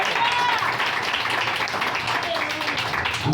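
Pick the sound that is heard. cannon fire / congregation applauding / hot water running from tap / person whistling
congregation applauding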